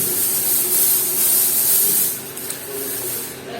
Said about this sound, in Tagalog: Meron tayong smoke machine.